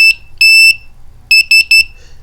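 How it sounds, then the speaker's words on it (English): A shrill, loud active buzzer on an Arduino UNO R4 beeps out SOS: short, long and short tones in crisp, close bursts with silent gaps between them. "I didn't want to listen to the buzzer going off all the time"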